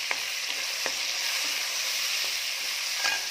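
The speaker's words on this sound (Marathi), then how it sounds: "यामध्ये मी टाकत आहे टोमॅटो." Tomatoes sautéing in a pan with onions for Malvani chicken, giving a loud, continuous close sizzle with a few light scraping stirs spaced through it and no talking.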